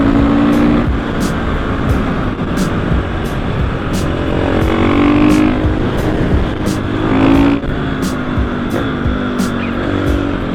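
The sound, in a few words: motorcycle with FMF exhaust riding on road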